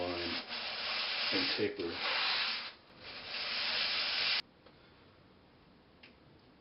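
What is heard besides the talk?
sanding lap steel guitar fingerboard with 60 grit sandpaper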